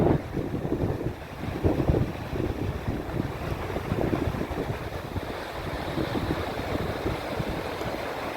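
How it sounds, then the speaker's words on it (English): A high river swollen about three feet rushes past, a loud, continuous churning roar with wind buffeting the microphone, strongest at the start and then settling to a steady flow. "I just wanted to show you guys the river. It's really high."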